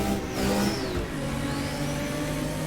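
A race car engine in the game Assetto Corsa drones loudly and steadily on a straight, its pitch holding and rising slightly as it revs, with a whining tone above.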